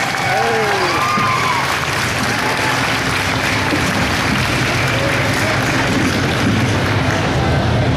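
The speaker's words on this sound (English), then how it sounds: "can you please give a big round of applause" A crowd applauds as voice actors come onto a panel stage, a broad continuous wash of clapping and crowd noise that holds steady throughout, with a voice talking over it early on.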